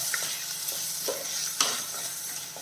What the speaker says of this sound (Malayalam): സവാള നല്ല രീതിയിലൊന്ന് വഴണ്ടിടണം